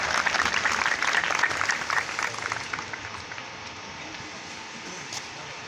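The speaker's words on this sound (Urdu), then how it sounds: "تو آپ کی بھرپور تالیوں میں تشریف لاتے ہیں" Audience applause at a school programme, a dense wash of many hands clapping loudly that gradually thins and fades over several seconds.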